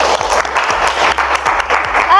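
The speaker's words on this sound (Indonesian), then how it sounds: "tepuk tangan untuk kalian" Classroom students applaud together in a dense, steady burst of clapping that holds for about two seconds, fairly loud and close.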